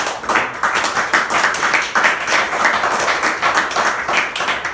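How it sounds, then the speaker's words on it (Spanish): Loud, continuous clapping from a church congregation, many hands beating in a rough shared rhythm, close and energetic throughout with no pause. "Vamos a aplaudir a Jesús."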